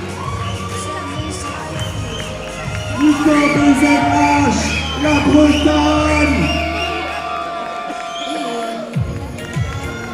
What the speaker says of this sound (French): Je vous demande d'applaudir Nicolas.